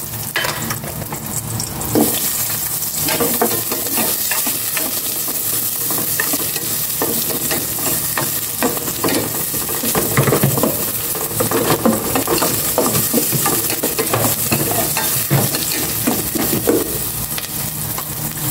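Onions sizzle and fry steadily in a hot pan while a utensil stirs and scrapes them at irregular intervals, a continuous close crackle with no talking.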